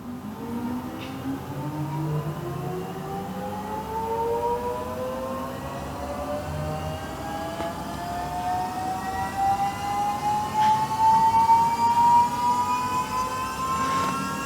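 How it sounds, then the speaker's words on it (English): A car power steering pump whines as it winds up, its pitch climbing steadily and growing slightly louder over fourteen seconds, a continuous motor tone with no talking. "then you've got your power steering, so I'll turn that on. Now it does take a little while to wind up."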